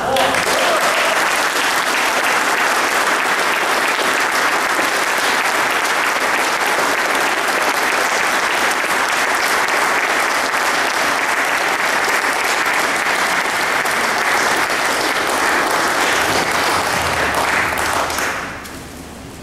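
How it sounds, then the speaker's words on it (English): A large audience breaks into a sustained, loud round of applause at a promotion ceremony, holding steady for nearly twenty seconds before tapering off at the end. "a little round of applause for my wife"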